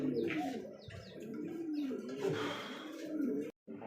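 Red Danish pigeons cooing and calling steadily, close by, with soft chirps scattered through and a brief break near the end.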